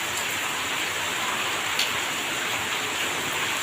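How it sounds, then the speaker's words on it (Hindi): Heavy rain pours steadily in a dense, even hiss with no pauses, close and fairly loud, in a courtyard in Samastipur, Bihar, India. "शानदार बारिश हो रही है"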